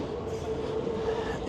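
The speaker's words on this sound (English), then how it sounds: "now there's the train. You can see it overhead." A train rumbles overhead on the rail line above Borough Market in London, a steady, loud, continuous roll with a faint tonal whine and no talking.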